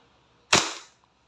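A WE Hi-Capa T-REX airsoft pistol fires a single sharp, close crack that decays quickly into near silence.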